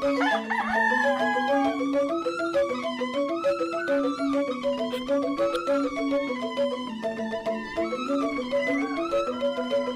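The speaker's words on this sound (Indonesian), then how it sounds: "Ini adalah ayam-ayam aduan yang akan diadu pada saat sebelum upacara besar diadakan di Desa Tenganan ini." Fighting cocks kept for cockfights before a major ceremony in Tenganan Pegringsingan village, Bali, crow in long overlapping calls, several birds close by and loud, continuous with no talk.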